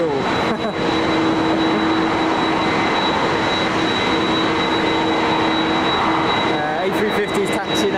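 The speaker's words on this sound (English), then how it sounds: "A350's taxiing out, sorry, Cathay Pacific, Hong Kong, I can see it." A Cathay Pacific Airbus A350 taxiing at Manchester Airport gives a steady loud jet whine and broad roar, constant throughout, with a sustained high tone over it, in heavy rain.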